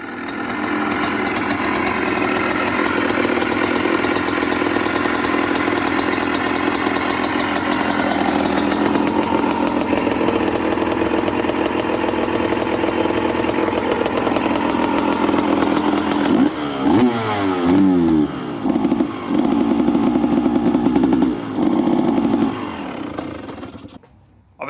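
A Honda CR250R two-stroke motorcycle engine runs with a steady, buzzy drone for most of the stretch, then rises into rough, uneven revs near the end before cutting off abruptly.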